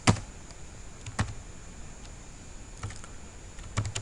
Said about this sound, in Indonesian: di sininya kita ketikkan